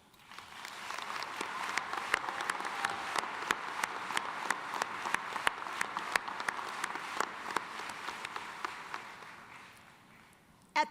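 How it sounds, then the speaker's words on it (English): Sustained applause from a university commencement audience in a large arena, many hands clapping steadily at a fairly close distance for about ten seconds, then tapering off near the end. "Let's share a round of applause for each other."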